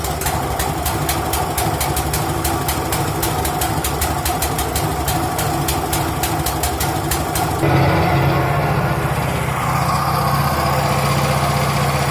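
ARPAL AM-60 engine idling steadily with a rhythmic putter, close and continuous, its tone roughening and deepening partway through as the running changes.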